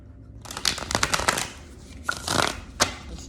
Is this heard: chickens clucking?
no